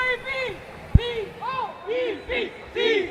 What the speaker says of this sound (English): Team members cheering on their teammates, team leader and the robot controller on the field.